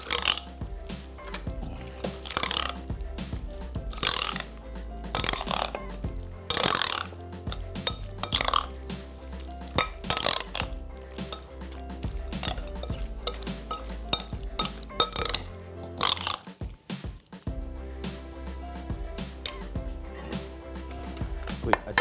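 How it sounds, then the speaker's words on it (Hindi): A spoon scrapes and knocks around a bowl while plain mayonnaise is mixed in, giving irregular clinks and wet stirring sounds in bursts, with brief quiet gaps. "मायोनीज शामिल करेंगे इसमें। और इसको हमने खूब अच्छी तरीके से मिक्स कर लेना है।"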